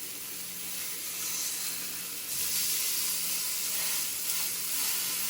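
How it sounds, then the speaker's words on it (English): Steaks sear in a pan, a continuous crackling sizzle that swells louder partway through as they are turned, with no voices. "And so now you can begin to flip these steaks"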